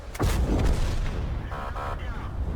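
A tank cannon fires in World of Tanks: one heavy, close boom with a long rumbling tail, followed by faint mechanical clanking.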